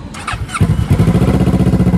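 A Kawasaki Z650 motorcycle with an SC Power aftermarket exhaust cranks briefly, catches and starts, then settles into a loud, rapid, throbbing idle close by.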